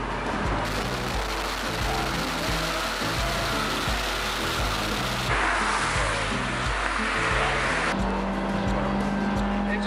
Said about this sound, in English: Engine noise is a bit droney though